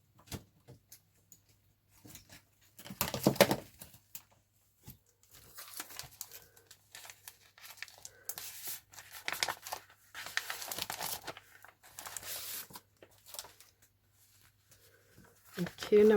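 Sheets of coffee- or tea-dyed paper are handled and shuffled in bursts of crinkling and rustling, separated by quiet gaps, with a little soft talk in between.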